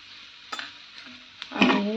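A spatula scrapes and stirs spiced potato filling for aloo paratha in a pan, with a few short separate scrapes followed by a louder, longer sizzling stir at the end.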